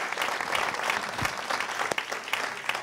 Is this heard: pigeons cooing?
no